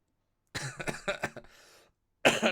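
A close, loud bout of several rough coughs in quick succession, fading out, then another short cough after a pause.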